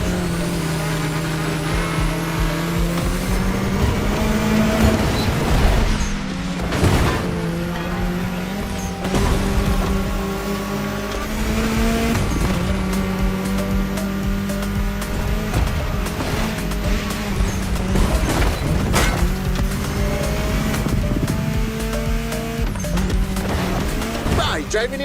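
A car in The Crew Motorfest cruises through a state capital, its engine note rising and falling through repeated shifts, loud and continuous, with a voice talking over it in places.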